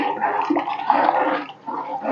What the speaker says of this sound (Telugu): తర్వాత దీంట్లో కొంచెం వాటర్ యాడ్ చేసుకోవాలి